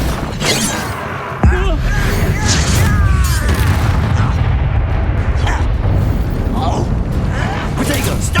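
A Bombarda blasting spell goes off in Hogwarts Legacy with a sudden loud boom, then a dense rumbling roar and crackling debris that keeps going for several seconds, with voices heard through the blast.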